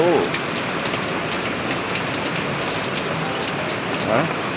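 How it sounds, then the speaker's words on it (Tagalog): Heavy rain pours steadily at dawn, a dense close hiss drumming on surfaces for the whole stretch with no pauses, and brief murmurs of a voice can be picked out beneath the downpour. "Lakas ng ulan."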